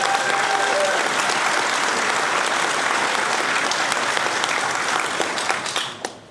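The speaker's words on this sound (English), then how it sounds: "Just one more round of applause." An audience at the Contact in the Desert 2025 event gives another round of applause after a psi demonstration, with loud, sustained clapping that holds steady and then tails off quickly at the end.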